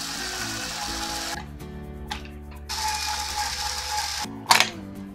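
Screws come out of the cable cover on a HappyTech T55-C01 monitor stand: close, continuous ratchety clicking from a screwdriver in long runs broken by brief pauses, then a sharp clack near the end.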